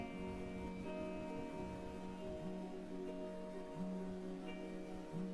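A heavily time-stretched guitar sample from the CoProducer app drones as smeared, sustained tones with slow shifts and a faint grainy texture, quiet and without talk.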